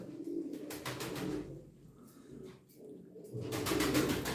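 Tumbler pigeons coo softly in low, rolling phrases, fairly close, with faint rustling between calls.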